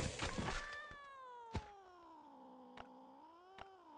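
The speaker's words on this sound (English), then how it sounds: "Yes, kitty." A cat gives a long, drawn-out meow, close and clear, followed by a few soft thumps in an otherwise quiet setting.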